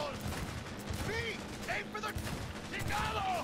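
Gunfire from the video game Cyberpunk 2077 during a car chase: rapid bursts of shots layered over engine and game noise, with a voice talking over the action.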